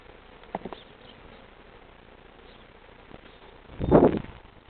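Honey bees buzz around an open hive during an inspection, faint background buzzing with a louder burst as one passes close near the end.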